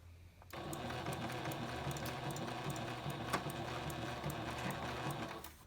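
A sewing machine stitches a Squishmallows backpack in a continuous, rapid mechanical whir, heard close and steady for about five seconds before it stops.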